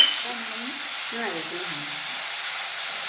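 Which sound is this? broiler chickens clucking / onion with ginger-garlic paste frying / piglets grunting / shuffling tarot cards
onion with ginger-garlic paste frying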